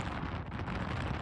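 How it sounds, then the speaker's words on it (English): On a high mountain slope near Mount Etna in Sicily, at around 2,670 metres, a brief, steady gust of wind rumbles and rushes across the microphone. "It is a bit windy up here as well"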